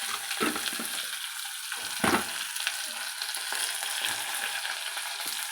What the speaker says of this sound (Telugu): ఇలా పసుపు కూడా వేసి వేయించుకోవాలి.